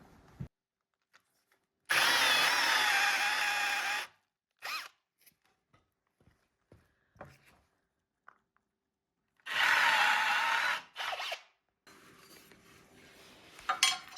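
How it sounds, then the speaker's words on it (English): A power drill whines in two long bursts, each a couple of seconds, boring a bolt-head recess into a wooden board, with clunks and small knocks of handling wood in between. "now we will roll it over and drill out a recess where"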